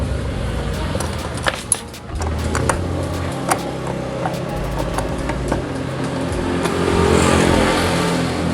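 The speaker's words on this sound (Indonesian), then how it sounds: "Cukup kita gunakan kunci T seperti ini." A T-handle wrench loosens the bolts on the plastic CVT cover of a Yamaha NMAX scooter, giving scattered light metallic clicks and ticks close by over a constant low background hum.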